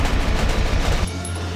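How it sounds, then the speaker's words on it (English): Rapid automatic gunfire from a shooter video game, a dense loud burst of shots that cuts off abruptly into quieter game ambience. "I'm gonna shoot this guy a bit,"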